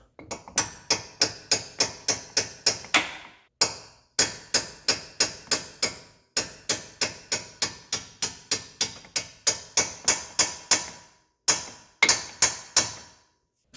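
Repeated hammer taps driving a lower control arm into place on a 2013 Fiat 500 Turbo, sharp metallic strikes in quick rhythmic bursts with brief pauses between groups, close and loud with no talk.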